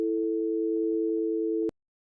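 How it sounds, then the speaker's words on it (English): A steady telephone dial tone holds at an even, loud level for about a second and a half, then cuts off sharply into silence with a faint click. "I just got a little dial tone"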